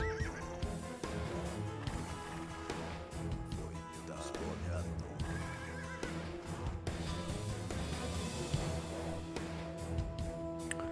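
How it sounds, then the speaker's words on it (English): A horse in Age of Empires 2 neighs in a loud whinny over busy game sound with clip-clop hooves and dense battle noise, continuous throughout. "Kill off this horse."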